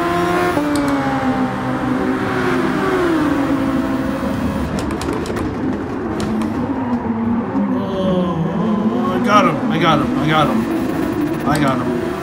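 A race car engine in Gran Turismo Sport drones and rises in pitch through a revving climb, dips, then climbs again, with brief sharp blips near the end, heard under someone talking throughout.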